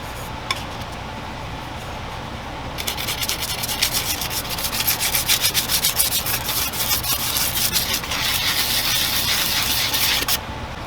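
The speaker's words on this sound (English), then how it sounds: "I am just very lightly sanding around it." Steady light sanding of an epoxy tumbler, a continuous scratchy rubbing that swells and eases in strokes, close by with no voices.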